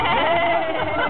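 A person imitates a sheep with a single short, wavering bleat, loud and close, outdoors at a Pride event.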